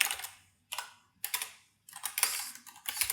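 Close computer keyboard typing while coding in Go: several short bursts of rapid keystrokes separated by brief pauses, with no voice.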